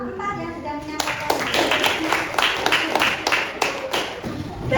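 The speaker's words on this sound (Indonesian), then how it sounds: "tepuk tangan untuk kelompok 4 yang sudah menyampaikan" A classroom of students claps for a student group after its presentation, a steady burst of applause of many hands that starts abruptly and carries on, with a teacher's voice heard over the clapping.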